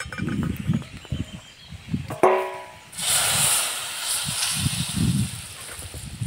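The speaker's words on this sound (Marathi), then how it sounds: "आता ही फोडणी आपल्याला लगेच भाजीमध्ये टाकून द्यायची आहे." Hot spice tempering with turmeric, coriander powder, salt and asafoetida is poured into a cooked pigeon pea dal and chickpea vegetable, and a loud, steady steamy hiss swells up mid-clip after some clinks and rustling.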